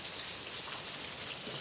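Heavy, steady rain pours down during a thunderstorm, a dense continuous hiss of drops striking surfaces, loud and even throughout with no voices.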